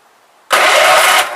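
A small yard engine is cranked with the throttle wide open, a sudden loud, rough roar that jumps in at once and holds steady for under a second before easing off slightly, with no talking.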